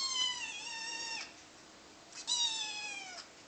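A hungry house cat gives two long, loud, close meows, one after the other with a short pause between.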